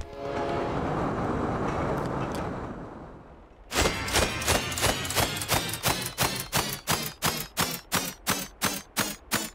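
Train departing in the video game Turnip Boy Robs A Bank: a steady rumble gives way to a loud, rhythmic clickety-clack of wheels, evenly spaced beats growing quicker, heard alone.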